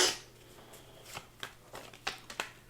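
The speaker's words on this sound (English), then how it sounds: "you saw me shuffle the cards, right?" Tarot cards being shuffled by hand, a soft riffle at the start followed by several separate quiet flicks and taps as the cards are handled, close and faint with no talking.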